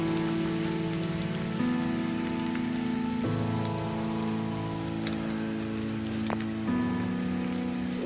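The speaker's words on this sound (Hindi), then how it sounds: "तो इसलिए मैंने सोचा कि चलो इसकी लोहे की कढ़ाई में बना लेते, तो फ्राई करते हैं।" Onions frying in oil in an iron kadai, a steady dense sizzle and crackle with some lower tonal hum underneath, heard close and continuous with no voices.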